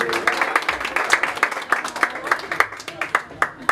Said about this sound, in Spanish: Un aplauso, muy bonito.